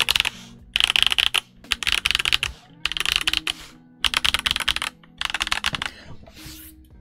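Typing on a Redragon K656 Garen Pro mechanical keyboard with a steel plate, close up, in several quick bursts of clacky keystrokes separated by short pauses.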